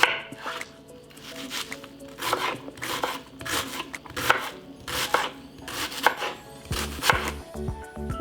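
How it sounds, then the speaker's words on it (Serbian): A knife chopping a large onion into big chunks on a board, with loud, closely miked, irregular strikes about every half second and no talk. "za to vreme iseći ću jednu veću glavicu crnog luka"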